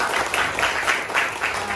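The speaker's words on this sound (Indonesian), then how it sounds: "tepuk tangan dulu untuk kita semua untuk hari ini" A class of students applauds together at the end of a lesson, a dense and fairly loud continuous patter of many hands that holds steady for the whole stretch.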